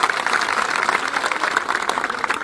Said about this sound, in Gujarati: એમને જોરદાર તાળીઓના ગડગડાટથી બતાવો